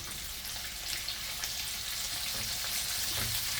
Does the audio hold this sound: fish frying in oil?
yes